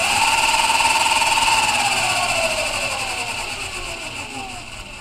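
A 1200 watt electric motor scooter runs with a steady whining electric drive, its loud tone falling slightly in pitch and level toward the end, with no talking.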